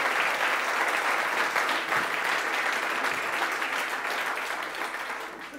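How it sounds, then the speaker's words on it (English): A dinner audience gives a full round of applause for the food, dense continuous clapping from a crowded room that gradually tapers off. "I'd like to just give a round of applause for all that great food here"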